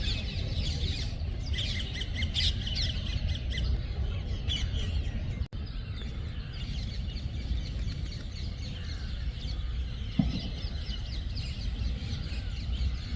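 Many birds call and squawk together in a dense, continuous outdoor chorus, with harsh caws and chirps over a steady background hiss, mid-distance and fairly faint.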